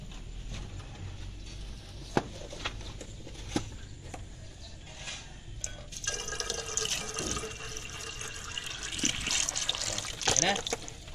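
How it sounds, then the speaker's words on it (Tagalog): Water trickling and splashing as it's poured into a car radiator, steady and close, with occasional clanks. "Dito naman tayo sa radiator boss. Maglalagay tayo ng tubig."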